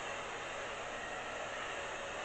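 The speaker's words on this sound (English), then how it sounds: "I do have this old hair dryer on high" An old hair dryer blowing steadily on high, a loud, constant rushing whoosh with no pauses.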